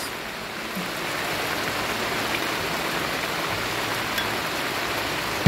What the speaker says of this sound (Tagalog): Lumakas yung ulan.